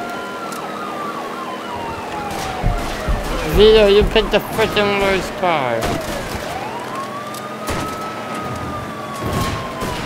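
Police car sirens wail and sweep in pitch during a Mafia 3 car chase, rising and falling over engine noise and crashes while someone talks over them.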